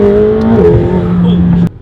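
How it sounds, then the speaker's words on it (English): A McLaren's engine drones steadily at close range, its pitch dipping and wavering midway before cutting off abruptly near the end. "Yes, I'm driving a McLaren."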